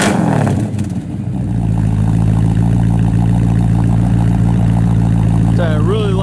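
A 1966 Chevrolet Nova II SS with full dual exhaust revs briefly, then settles into a loud, steady, rumbling idle close by.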